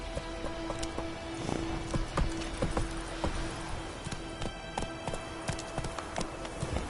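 Hoofbeats of a horse galloping in The Witcher 3 on PS4, a quick repeated clip-clop rhythm over a steady background wash, close and even throughout.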